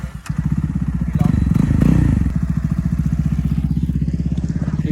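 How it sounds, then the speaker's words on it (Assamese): A motorcycle idles close by with a rapid, steady putter that swells briefly around the second mark before settling back to an even idle; a faint voice may be present. "এইখন মোৰ বাইক"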